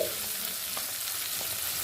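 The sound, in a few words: onion and capsicum frying in oil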